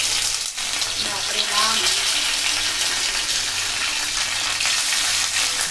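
Chopped onion and bay leaf sizzle in hot oil in a pan on a gas stove, a steady close crackle running throughout.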